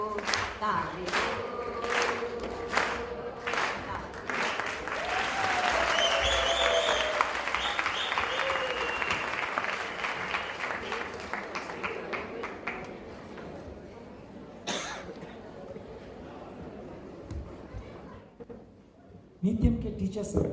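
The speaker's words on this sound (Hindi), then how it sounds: "ताली हो" An audience at a yoga centre's annual programme applauds, with scattered sharp claps building into sustained crowd clapping and cheering that fades out, with voices speaking over it.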